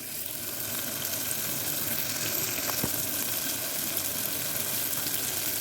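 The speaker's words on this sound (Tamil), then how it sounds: "இந்த மட்டன் நல்லா எடுத்து அதில் சேர்த்து நம்ம வதக்கிக்கலாம்." Mutton pieces sautéing in an oil-filled pan while a Tamil mutton curry is cooked, giving a steady, close sizzle and frying hiss with faint stirring scrapes.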